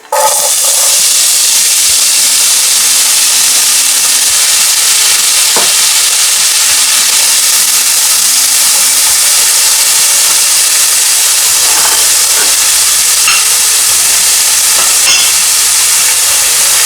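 Potatoes frying in hot oil give off a loud, dense, continuous sizzle, with occasional pops and a few faint clinks heard close up for the whole stretch.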